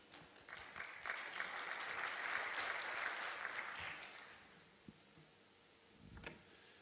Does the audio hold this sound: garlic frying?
no